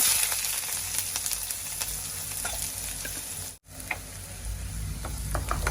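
Mustard seeds fry in hot oil in a pan with a dense, steady crackling sizzle and faint popping ticks. The sound cuts out for a brief moment partway through, then continues.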